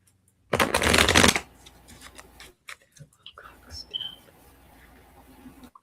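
A card comes off a shuffled deck with a brief, loud riffling flutter near the start, followed by softer handling taps and rustles and a faint voice in the background.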